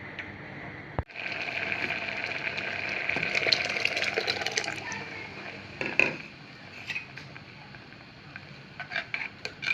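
Crushed coconut mixed with garlic and cumin is poured into a simmering home curry, bringing a clatter of a pot, then a sustained liquid pouring and splashing sound followed by scattered light clinks of utensils.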